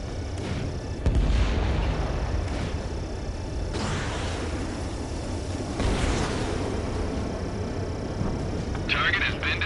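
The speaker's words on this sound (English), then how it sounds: "They've got their anti-air guns aimed right at us." Anti-air gunfire in the Ace Combat 7 flight combat game, with repeated booming bursts and rumbling blasts over a continuous jet-engine roar. Radio voices talk over the action.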